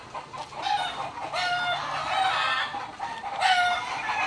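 Chickens cluck steadily and a rooster crows from a neighbouring chicken coop, a busy, moderately loud backdrop of fowl calls running throughout with no talk.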